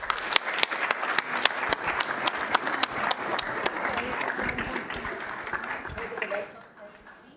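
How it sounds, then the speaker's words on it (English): Audience applause at a city council regular meeting, a sustained round of clapping with a few sharp nearby claps standing out, fading away over the last second. "So a big round of applause for Arizona Brain Food."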